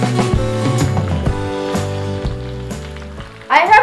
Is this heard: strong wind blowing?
no